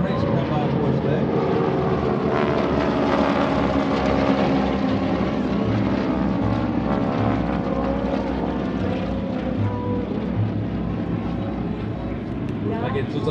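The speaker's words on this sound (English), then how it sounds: "It looks like Greg Shelton with the prop going supersonic to bring the power up on these T-6 airplanes" North American T-6 Texan propeller airplanes roar past in a diamond formation at an airshow, a sustained, loud drone, the engine buzz swelling and holding steady throughout as they fly by.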